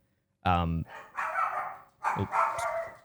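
A dog barks loudly and close by during a streamed podcast conversation: one sharp bark followed by a couple of rougher yapping bursts, with no other sound between them.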